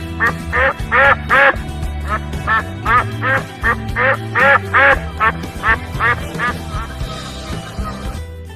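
A duck quacks over and over in quick, loud bursts, a steady run of nasal calls with short pauses, then the calling fades out near the end.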